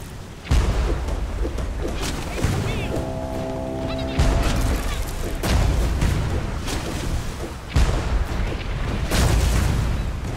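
Enemy cannon fire in the naval game Blazing Sails: repeated heavy booms and blasts roll in at intervals across the clip, loud and close, with a steady droning tone in the middle stretch.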